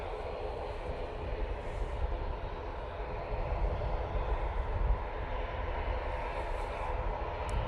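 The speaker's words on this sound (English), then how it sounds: "ATR making its way now past Ether." An ATR turboprop airliner taxis at Manchester Airport, its engines giving a steady, distant low rumble and whine that holds evenly throughout with no voices.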